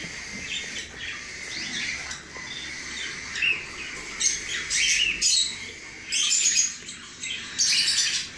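Birds chirping at a nest where chicks are hatching, with a pair that includes an albino female: bright, close bursts of tweets and squawky calls come in irregular clusters over a faint insect hum.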